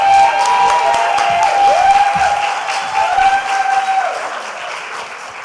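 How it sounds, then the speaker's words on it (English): An audience at a poetry slam finale applauds steadily for the performers, a full, even sound of clapping with faint voices beneath, slowly easing off. "can we please give such a big round of applause to say thank you to all of the people that are coming on the stage"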